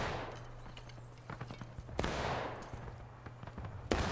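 Gunfire in the Civil War video game War of Rights: scattered, fairly distant musket shots and crackling volleys sound over a low background hum, with a sharper, louder shot at the end, and no talking.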